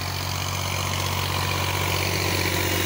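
A 2021 Ghazi 65 hp tractor engine runs at a steady, low diesel rumble, pulling discs in a field. It holds constant and fairly close, without talking.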